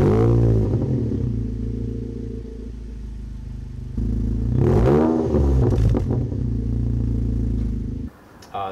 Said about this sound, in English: It's got a single exit race exhaust in the back and a mid pipe all the way through.